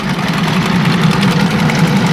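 A homemade mini combine built for extracting pumpkin seeds runs its engine at a steady idle, with a loud, close, even low drone and vibration and no speech.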